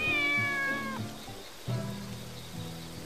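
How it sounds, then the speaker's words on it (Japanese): A cat meows several times in the Sakuna: Of Rice and Ruin video game. Pitched, wavering cries sound close and fairly clear, with short gaps between them and faint patter in the background. "我が家に猫が住み着いた"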